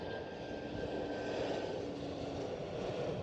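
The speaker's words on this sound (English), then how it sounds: "Eastern Airways E190 flying for KLM Cityhopper" An Eastern Airways Embraer E190 jet operating for KLM Cityhopper at Amsterdam Schiphol makes a steady, broad roar of engine noise that holds even throughout, moderately distant with no talking.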